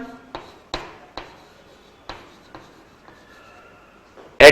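Chalk or marker strokes on a board, a series of short sharp taps and scratches spaced unevenly, close and clear in a quiet room, ending with a louder scrape.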